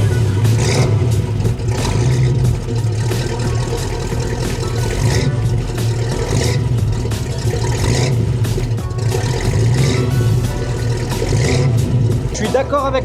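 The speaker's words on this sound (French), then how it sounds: "tu veux écouter cette ligne d'échappement qui résonne. Allez, on va la démarrer." A 1966 Ford Mustang convertible, its engine running with the exhaust giving a deep, steady, close rumble and slight revving swells, and someone talking over it.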